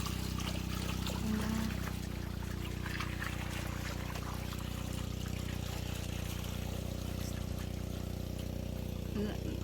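Water flowing through a banana (lakatan) farm in the hot dry season rushes steadily, a loud, continuous broadband wash with no pauses throughout.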